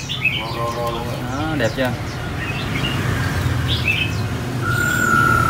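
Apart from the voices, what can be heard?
red-whiskered bulbul singing after release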